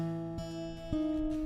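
Fingerpicked acoustic guitar playing a song's pattern, with sustained ringing strings and two clear plucked attacks, close and alone.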